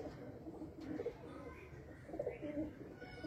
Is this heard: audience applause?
no